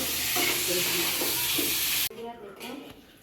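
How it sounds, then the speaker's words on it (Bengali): Pointed gourd (potol) frying in a pan, a loud, steady sizzle with stirring scrapes for two seconds before dropping to a quieter crackle as it settles. "পটল ভাজছি"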